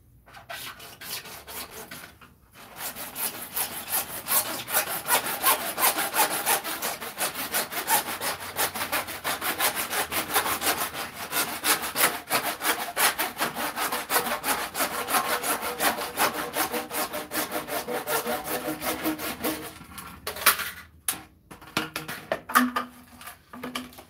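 Hand saw cutting through PVC pipe while building a new instrument, a steady rhythmic back-and-forth rasp lasting about twenty seconds, close and fairly loud, ending in a few separate strokes.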